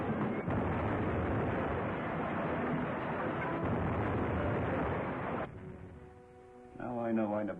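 Bombs dropped from Japanese bombers explode over an island in a long, roaring rumble of blasts. The noise cuts off abruptly and is followed by voices talking.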